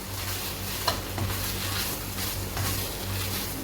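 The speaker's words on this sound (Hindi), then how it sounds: "अब आपने ज़रा फ्लेम को इस पॉइंट पे लो कर लेना है और इसको अच्छे से मिक्स कर लेना है।" Chicken filling with spices is stirred in a pan over a low flame, giving a close, continuous sizzle with soft scraping strokes of the spoon.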